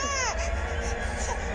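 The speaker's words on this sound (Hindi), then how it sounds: "अरे बच्ची रो रही है," A baby girl cries in thin, wavering wails, fairly close, against a background of low murmuring and room noise.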